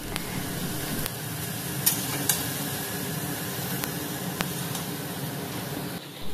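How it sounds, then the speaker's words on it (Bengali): Onions sizzle in a small amount of oil for crispy fried beresta, a soft, steady frying hiss with a few sharp crackles and pops, fairly quiet and close. "পেঁয়াজগুলো ভাজছিল"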